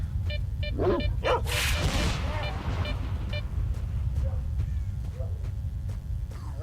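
Dogs bark and yip in the video game S.T.A.L.K.E.R.: Shadow of Chernobyl, several sharp barks at mid distance over a constant low rumble of ambient noise.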